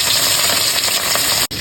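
Fish tails frying in hot oil in a wok for a hilsa tail mash, giving a dense, steady sizzle close by that runs unbroken with a brief cut near the end.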